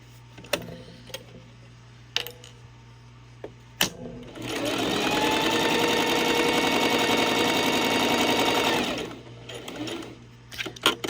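A sewing machine stitches fabric in one steady mechanical burst of several seconds, with scattered clicks and taps before and after.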